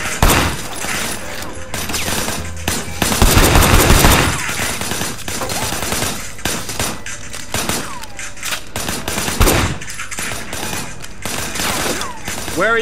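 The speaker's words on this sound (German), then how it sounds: "Einige Schüsse blind feuern." Blind-fired gunshots in a video game, loud rapid bursts of automatic fire and scattered single shots in close succession, with brief quieter gaps between volleys.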